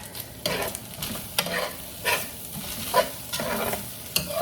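Ground beef being stirred and mixed in a pan for a baked pasta dish, giving close, irregular scraping and sizzling strokes every half second or so, with no talking.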